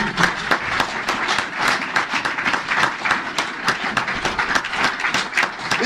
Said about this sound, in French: Si tu es d'accord, tu applaudis pour le roi des rois.